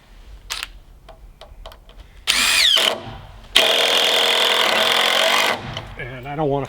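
A power drill drives screws into wood for an Alaska woodshed roof structure, with two loud whirring bursts, the second held for about two seconds, after scattered clicks and taps; no talk is heard.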